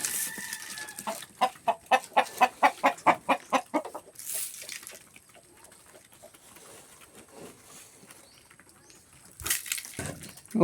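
A chicken clucks in a rapid rhythmic run of loud nearby calls, followed by quieter scattered rustling and a few more clucks, in an outdoor yard with no talking.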